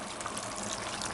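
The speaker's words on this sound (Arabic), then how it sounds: "هنزل هنا بكوبايتين من الميه" Water, two cups, pours into a pan of zucchini and minced meat with tomato, a soft continuous splashing trickle that stays faint and even, with no talk over it.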